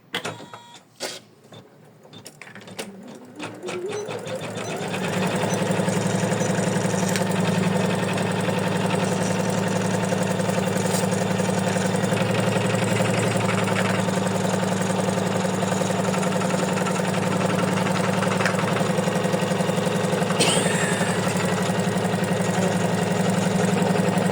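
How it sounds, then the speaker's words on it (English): A steady mechanical drone with a constant rhythmic hum runs at fairly loud level for most of the stretch, matching building work going on outside next to an embroidery machine stitching a bookmark, with occasional sharp clicks on top. "So they are building something, and from outside are coming some noises."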